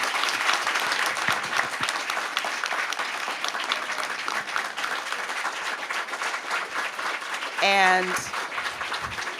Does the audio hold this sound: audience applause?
yes